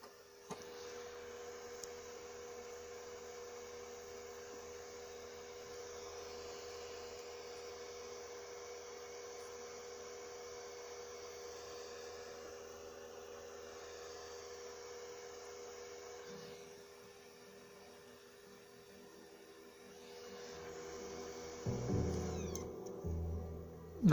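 A PS4 Pro console whirs and hums steadily while loading Mafia 3. The faint, even fan-like noise dips partway through, then rises again with some clunky mechanical rattling near the end, and no one talks.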